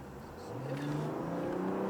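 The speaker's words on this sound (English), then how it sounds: "you can hear the engine a little bit" A BMW 840i Gran Coupe engine in comfort mode rises steadily in pitch as it revs, a smooth, muted whir heard from inside the car with no talking.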